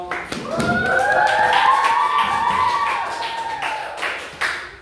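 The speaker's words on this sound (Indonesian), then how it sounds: "teman-temannya tepuk tangan dulu buat temanmu" Schoolchildren in a classroom clap for a classmate, light scattered claps mixed with rising, excited young voices calling out over them.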